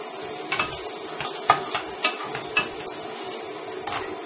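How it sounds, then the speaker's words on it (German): Shallot frying in a pan, a soft steady sizzle with light stirring scrapes and a few utensil clicks, close by with no talk. "Dann tue ich schon mal die Schalotte dazu."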